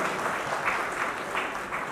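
Sustained audience applause at a Hindi poetry recital welcoming a poet, a steady dense wash of clapping from a sizable crowd, fairly distant and even, with no talk on top.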